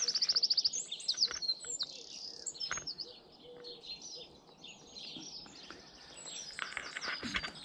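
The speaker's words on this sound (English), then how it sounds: "Listen to this bird song." Several birds singing and chirping together at a campsite, high bright trills and tweets overlapping in a steady chorus at moderate distance, with no talking.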